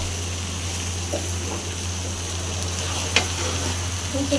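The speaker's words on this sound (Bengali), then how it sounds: "আদা বাটাটা দিয়ে দিলাম রসুন বাটা দিয়ে দিলাম চালটা আমি ভালো করে ভেজে নেব" Rice fries in a pan with ginger paste and garlic paste, making a constant close sizzle broken by occasional scraping stirs, with no one talking.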